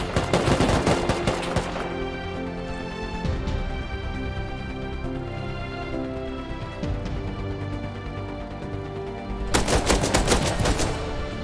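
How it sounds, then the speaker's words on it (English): Gunfire from an AK rifle in the game Rust comes as bursts of rapid, loud, sharp shots at the start and end, with a lighter ringing backdrop and scattered single cracks in between. "He's like tap firing with the AK."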